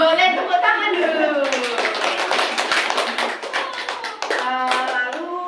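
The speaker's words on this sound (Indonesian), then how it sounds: "Boleh tepuk tangan dulu." During a microteaching lesson, a group of children claps hands in a quick, rhythmic burst. Young voices sing or chant before, during and after the clapping, and the claps sound close and crisp.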